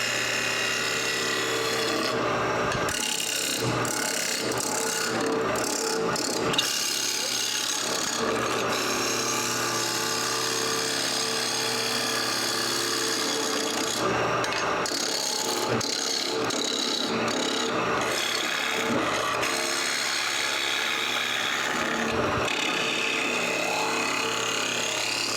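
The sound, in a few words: woodturning tool cutting fine shavings on a lathe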